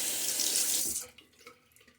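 Water runs from a tap for shaving lather in a strong steady hiss, then cuts off about halfway through, leaving a few faint clinks and a quiet room.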